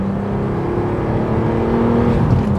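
A VW MK4 Golf R32 engine revs briefly under load while driving, a smooth rising drone heard up close from inside the car.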